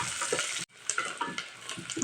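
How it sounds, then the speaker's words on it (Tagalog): Ginger and onion sautéing in a pan for beef nilaga, close and loud, with steady sizzling broken by a brief pause and spatula scrapes as the pieces are stirred. "Gisa ko muna ang aking luya and then lalagay ko na yung sibuyas."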